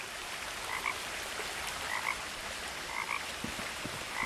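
Frogs croak in soft paired chirps at regular intervals in the video game What Remains of Edith Finch, faint against a steady ambient hiss with no talking.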